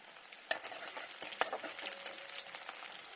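Onion and green chillies fry in a pan, a quiet continuous sizzle broken by a few sharp stirring scrapes, close and with no talking.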